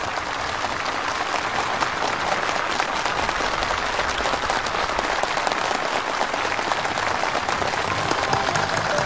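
A crowd of workers, builders and farm workers at a housing permit ceremony in Sariwon, North Hwanghae Province, applauds enthusiastically: dense, even, sustained clapping throughout, loud and close, with no voices standing out.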